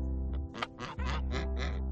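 Several geese honk in a short, nasal series of calls, fairly close and loud over a steady low background hum.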